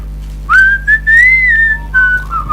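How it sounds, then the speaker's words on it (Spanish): A person whistles a clear, sliding melody, close and alone, in several phrases with short pauses between them over a low steady hum. "estoy emulando el silbido de la canción"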